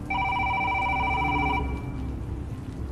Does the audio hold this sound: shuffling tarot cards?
no